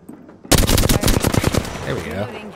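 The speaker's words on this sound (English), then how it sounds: "They're shooting at me." Rapid bursts of automatic gunfire in a video game firefight, loud and close, a fast rattling volley lasting over a second before tapering off into softer battle noise, with a voice mixed in.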